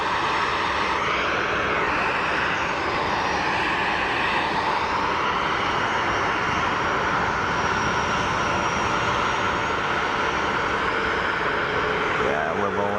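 Air Canada Airbus A330 jet beginning to taxi at Geneva Airport, a steady, loud broadband engine roar that stays constant throughout, with a faint rising whine near the end.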